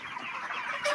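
Broiler chickens cluck and murmur together inside a poultry shed, a close, busy chorus of soft bird calls.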